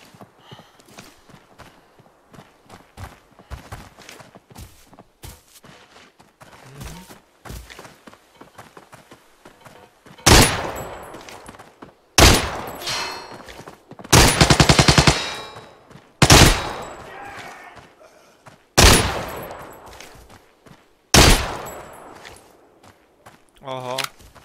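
Heavy gunfire in the Arena Breakout mobile shooter: quiet footsteps and faint movement, then a run of loud, close bursts of automatic fire, each ending in a sharp decay, with spoken commentary at times.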